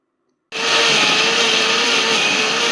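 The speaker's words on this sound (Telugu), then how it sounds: "టేస్ట్‌కి సరిపడా సాల్ట్ అండ్ వాటర్ యాడ్ చేసుకొని ఇవి మొత్తం గ్రైండ్ చేసుకోవాలి" A mixer grinder starts up abruptly and grinds jowar dosa batter with salt and water, a loud, steady high-pitched whir that runs without a break after the switch-on.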